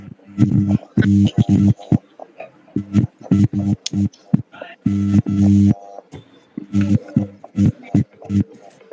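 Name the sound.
telephone dialing tones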